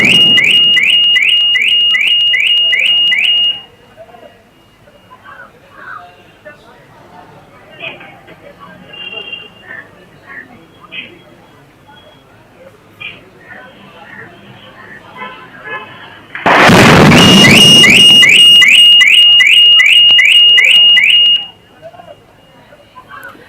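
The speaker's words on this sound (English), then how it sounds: "that loud sound that can be heard as that alarm of the vehicle was triggered after that explosion really took place" A vehicle's car alarm rings loud and close after an explosion, with a steady repeating electronic beep pattern that stops, leaving busy crowd noise and chatter, then blares again at full volume for several seconds before cutting off.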